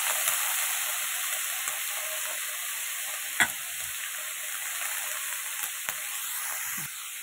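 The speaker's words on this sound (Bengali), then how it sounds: "এই যে ক্যাপসিকাম আর বেগুনটা দিয়ে দিলাম, একটু হালকা করে ভেজে নেবো" Capsicum and eggplant fry lightly in a pan, a close, steady bright sizzle with a few soft stirring clicks and knocks, no talk.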